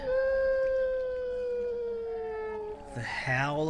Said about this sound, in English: The Howl of Wolves.